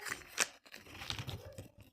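A plastic packet is torn open during an unboxing, with a sharp rip followed by crinkling plastic, close and moderately loud.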